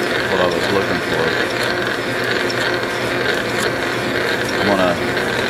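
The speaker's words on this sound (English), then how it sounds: "So now my lathe will run an automatic, which is what I was looking for." A metal lathe runs on automatic feed, giving a steady close mechanical whir with a fast ratcheting, geared clatter that holds at an even level throughout, loud and without talk.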